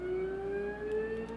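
A siren sounds outside, a steady sustained wail with a slowly shifting pitch, heard faintly through a room over a constant low hum such as an air conditioner.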